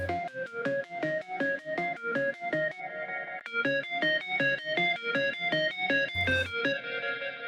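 A bright synth arpeggio layer from a hard techno track plays steady, fast repeating plucked notes in a looping pattern, with a short distorted low hit near the end.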